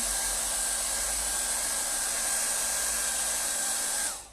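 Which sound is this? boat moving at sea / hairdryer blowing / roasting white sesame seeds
hairdryer blowing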